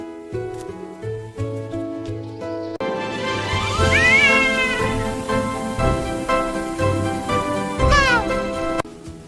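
A cartoon cat gives a couple of bright, rising-and-falling meows over a playful musical backing, each call drawn out and clearly in front.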